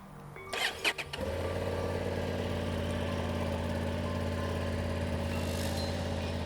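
A few sharp clicks and a brief cranking, then a new 2025 Honda Hornet CB750 motorcycle on its stock exhaust catches and settles into a steady, loud, rumbling idle that continues to the end.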